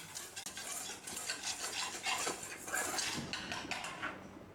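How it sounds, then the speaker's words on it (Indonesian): A spoon stirs cornstarch and sugar in a pot while making vla pastry cream, giving a steady, close scraping and rubbing that runs continuously for a few seconds with no voices. "Kemudian diaduk."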